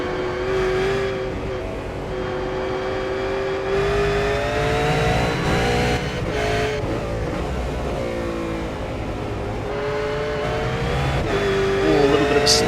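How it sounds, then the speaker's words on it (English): Race car engine at Circuit de Spa-Francorchamps, a loud sustained harmonic whine with small wavering dips as the throttle is eased and reapplied, rising again near the end, with commentary talking over it. "you could hear him just hesitating a little bit with the throttle"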